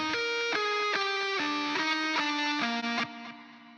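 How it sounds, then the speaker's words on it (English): Guitar notes and chords through delay and reverb, each strike ringing on with echoing repeats, then fading out near the end. "in the pedal section, I am using the delay and the reverb"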